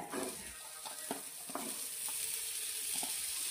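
A soft, continuous sizzle of masala roasting in a pan for okra curry gravy, with a spoon or spatula scraping and stirring every half second or so.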